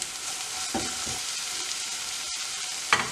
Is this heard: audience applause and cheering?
no